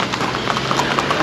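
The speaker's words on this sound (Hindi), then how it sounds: "हम घोड़े पे जा रहे हैं।" A horse's hooves clip-clop in a quick, even rhythm during a ride toward Baisaran valley near Pahalgam, Kashmir, close and fairly loud over a steady background hum.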